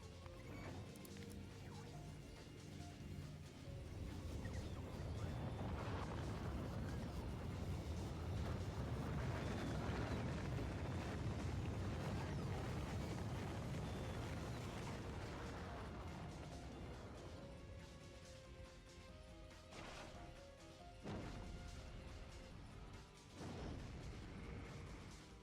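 A rocket launches in the video game Factorio, a faint, deep rumbling roar that builds over several seconds, peaks midway and then slowly fades, with a few brief clunks near the end.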